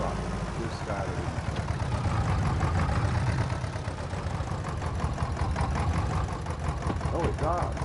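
A tractor engine idles in Farming Simulator 22, a steady low rumble running throughout at constant loudness, with someone talking over it.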